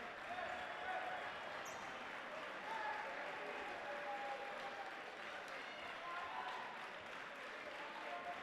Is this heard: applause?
yes